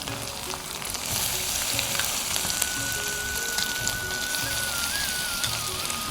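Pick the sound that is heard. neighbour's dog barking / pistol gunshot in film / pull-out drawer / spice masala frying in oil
spice masala frying in oil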